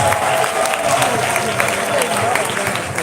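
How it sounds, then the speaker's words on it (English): Round of applause from a congregation or live event audience, continuous loud clapping with crowd murmur and a voice speaking over it throughout. "Let's give Mommy a round of applause."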